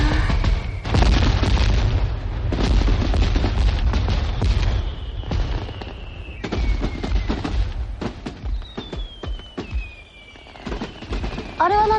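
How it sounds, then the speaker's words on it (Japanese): Fireworks bursting in a rapid, dense barrage of loud booms and crackles, with several whistling rockets rising and falling toward the end. "あ、あれは花火です。"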